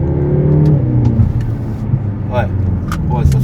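A BMW M6 F13 sports car engine hums and revs steadily in the foreground while accelerating, with people talking over it throughout.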